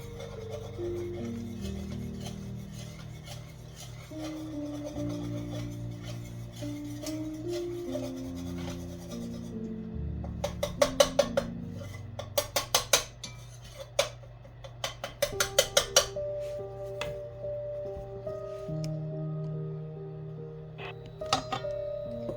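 Butter and flour stirred together in a pan on the stove for a cheddar broccoli potato sauce, with a steady low sizzle under scraping strokes and a run of sharp utensil clicks against the pan partway through.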